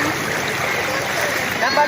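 A strong river current rushes steadily where a woman washes laundry, a close, continuous broadband wash of flowing water with faint splashing and no break.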